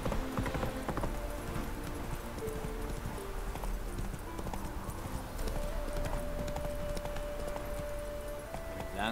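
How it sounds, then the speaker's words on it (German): Horse galloping in The Witcher 3 game, steady rhythmic clip-clop of hooves throughout at moderate level, with a faint sustained tone entering partway through. "Dieses beschissene Pferd, Alter."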